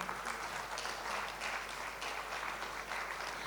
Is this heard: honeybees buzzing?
no